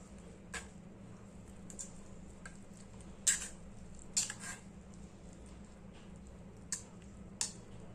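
A spoon mixes a beetroot, cucumber and onion salad with curd, chaat masala, chilli, salt and black salt in a bowl, making a few soft, sparse clicks and scrapes that stay quiet, with no talking.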